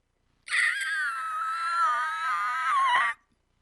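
A voice imitates screeching brakes with a long, high, strained squeal that holds for nearly three seconds before cutting off abruptly.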